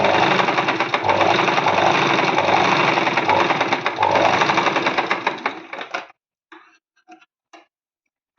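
Sewing machine stitching piping onto the front of a blouse runs in a dense, steady whir for about six seconds, then stops, leaving a few soft clicks and taps.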